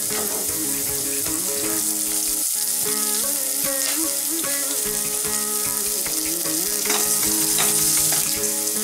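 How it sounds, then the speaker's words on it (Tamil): Onions and ginger sautéing in a pan for foxtail millet upma, with a steady high sizzle running throughout beneath prominent tonal background music, with no talking. "ஆனியன் வதங்கி வதக்கிக்கோங்க இப்போ வந்து சாஃப்ட் ஆகிடுச்சு நல்லா வதக்கியாச்சு"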